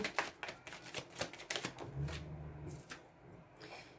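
Tarot cards are shuffled and drawn during a reading, with a run of quick, soft riffling taps and flicks, close and fairly quiet, followed by a few sparse card snaps.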